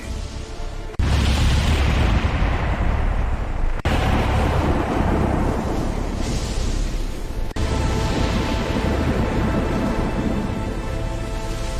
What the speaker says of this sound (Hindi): देखते ही देखते भयानक तूफान उठ खड़ा हुआ